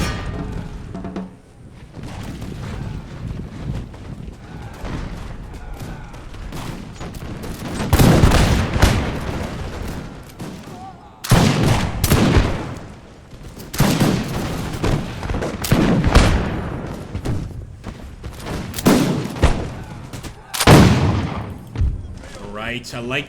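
Musket volleys and massed gunfire crackle through a Napoleonic-era strategy game battle with the Imperial Splendour mod, rolling bursts of shots and booms recurring over about twenty seconds, loud and close, with a voice talking beneath.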